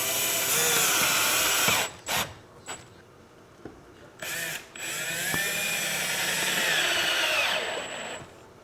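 A power drill drives screws to fasten legs onto a table, running in several loud bursts of whirring with short pauses and one sustained run near the end, close up with no talking.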